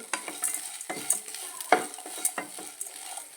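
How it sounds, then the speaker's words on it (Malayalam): Drumstick leaves fry in a pan, close up, with a soft sizzle under repeated stirring scrapes and taps of a spatula, quiet and irregular, with no talking. "മുരിങ്ങയിലേക്ക് നല്ലോണം വെന്ത് പൊരിഞ്ഞ് വന്നിട്ടുണ്ട്"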